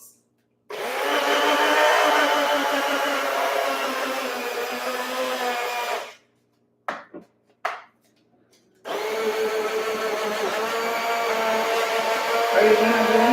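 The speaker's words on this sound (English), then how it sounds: "If only the blender would go on." A kitchen blender runs loud and steady during home baking of Jamaican ginger bulla and cheesecake, stopping in the middle for a few short bursts before starting up again and running to the end.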